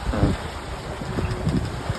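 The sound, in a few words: strong wind at sea aboard a sailboat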